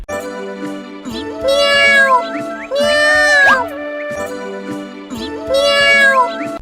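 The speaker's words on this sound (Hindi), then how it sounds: "अरे, लगता है बिल्ली यहीं कहीं आसपास है।" A cartoon cat meows repeatedly in a Hindi animated story. Long, wavering meows come in a regular pattern over light background music, and the calls are loud and close.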